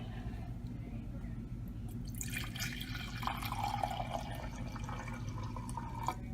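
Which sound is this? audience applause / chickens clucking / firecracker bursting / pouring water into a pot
pouring water into a pot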